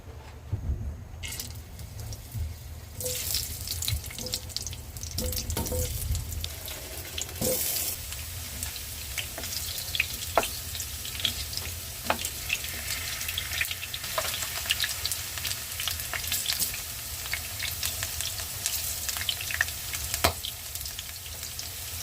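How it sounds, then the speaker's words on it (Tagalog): Potatoes, banana and carrots sizzle steadily in hot oil for pochero, a constant crackling fry with occasional sharper pops and stirring clatter, close and moderately quiet. "Then, ipiprito natin yung ating patatas, saging, at carrots."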